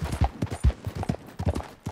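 Horse hooves clip-clop in the Western video game Red Dead Redemption 2, a quick uneven run of soft thuds at close to middle distance with no talking.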